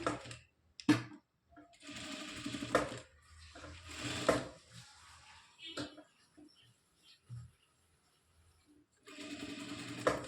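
A sewing machine stitches a blouse in short intermittent bursts of whirring, with soft handling noises between runs and someone talking over parts of it.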